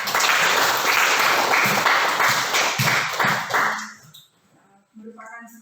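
Audience applause at an Indonesian presentation rises as a loud, dense burst of clapping, fades out after about four seconds, then gives way to a brief voice.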